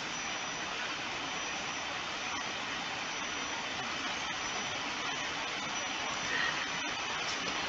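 A steady, loud roar from an in-flight jet engine in the Roblox game Aeronautica, a plane attempt on the Soviet Concorde, continuous and unchanging from start to end.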